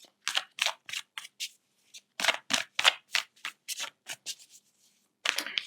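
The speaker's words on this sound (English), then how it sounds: "Let's give this a good shuffle." A deck of tarot cards is shuffled close up in a series of quick, crisp riffling bursts separated by short pauses, with a longer gap before a final burst.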